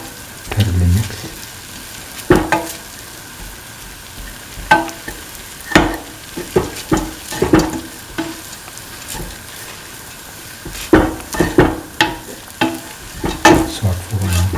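Egg and vermicelli pasta sauté in a pan, a steady sizzle broken by repeated scraping and clattering stirs, loud and close with no talking.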